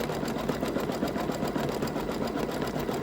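A sewing machine stitches a seam on a towel topper, a rapid, even mechanical chatter of needle strokes running continuously and close, with no talking.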